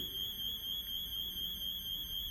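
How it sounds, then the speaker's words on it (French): A high, piercing electronic intruder alarm tone from a Qiara home alarm sounds continuously over a low background rumble, steady and unbroken. "Je ne vais pas faire monter trop le débit de l'alarme, il augmente très rapidement"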